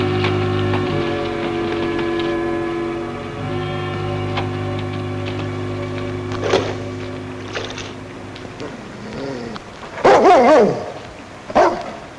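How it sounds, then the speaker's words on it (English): A dog barks in loud, excited bursts near the end, over a sustained musical drone with scattered clatter and brief voices. "That dog of yours has gone crazy."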